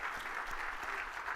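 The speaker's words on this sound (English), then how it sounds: "Everybody give Martin a round of applause." A conference audience claps for a departing speaker at a SaaS and AI event in London, a brief burst of steady, moderately loud applause with no talk over it.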